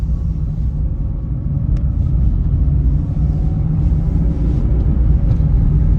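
A 1992 Vauxhall Corsa B (Opel), freshly serviced, pulls away and drives gently, heard from inside as a loud, continuous low engine and road rumble with no talking.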